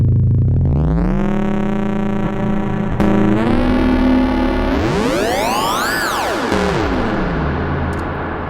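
A bass guitar through a fuzz pedal and reverb: a heavily distorted bass drone swells and bends in pitch, washed in long reverb, loud and continuous throughout.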